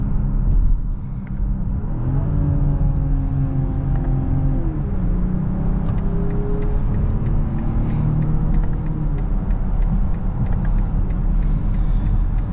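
A 2023 BMW X5 with an 8-speed automatic transmission drives steadily, its engine droning at a low, continuous rumble with rising and falling tones as it shifts through the gears, heard from inside the cabin with no talking.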